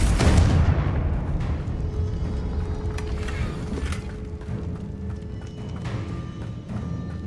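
A Confringo fire spell exploding in Hogwarts Legacy, opening with a loud deep boom that decays into a rumbling tail, followed by fainter thumps and crackles, close and alone without talk.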